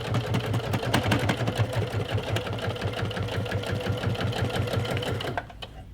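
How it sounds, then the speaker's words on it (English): A sewing machine runs steadily at a short stitch length, sewing a seam on a kraft-tex tote bag. Its rapid, even mechanical chatter is close and continuous, then cuts off near the end. "I'm going to sew it on the stitch line."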